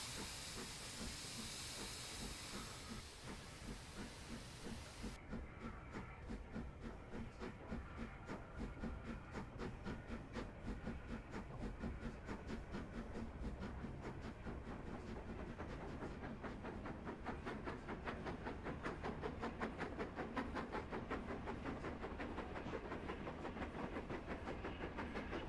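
A Duchess steam locomotive in Train Simulator hisses strongly at first, then settles into a rapid, regular chuffing and clatter of wheels running along the Settle–Carlisle line, steady and fairly close throughout with no speech.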